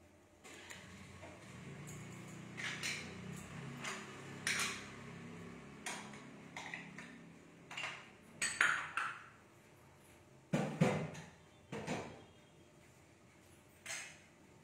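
Almond and walnut powder with ghee-sautéed ingredients is stirred in a bowl in a home kitchen, giving a series of irregular metallic clinks and scrapes of a spoon against the bowl, fairly close and without speech.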